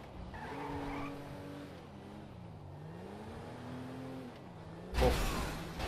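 A car in GTA V drives with a steady engine drone that wavers in pitch, then a sudden loud burst of tire skidding near the end.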